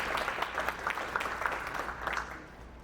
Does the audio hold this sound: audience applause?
yes